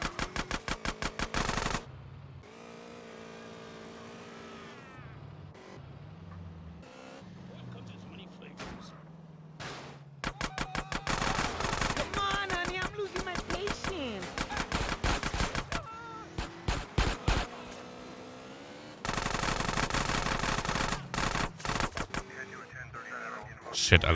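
Gunfire in GTA San Andreas Definitive Edition, bursts of rapid automatic shots and single cracks repeating through the scene amid game engine and vehicle noise, with players talking over parts of it.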